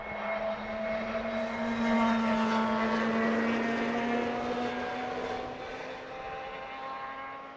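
A propeller or jet airliner arriving on the southern runway at Heathrow Airport, a steady loud engine drone with whining tones that swells toward the middle and slowly eases off, with no voices.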